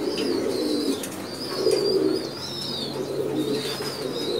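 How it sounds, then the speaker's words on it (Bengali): Pigeon in a breeding loft, a three-time racing bird, cooing in repeated low throaty calls close by, with a faint thin chirping from other birds above it and no talk. "খুবই সুন্দর একটা কবুতর"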